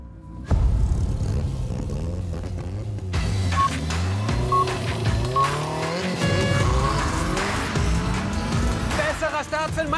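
A Lotus Elise Sport 240 Final Edition and a Caterham Seven 485 R launch hard, engines revving up through rising, falling gear-change sweeps with tire squeal, loud and close as people talk over the roar.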